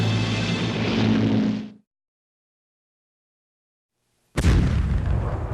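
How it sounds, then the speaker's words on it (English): An artillery barrage, with a dense, loud rumbling blast that cuts to silence, then a sharp new boom and heavy roar close up. "Behind a thunderous artillery barrage"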